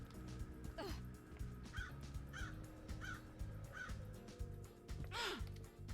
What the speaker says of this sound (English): I hear you, Mr. Crow.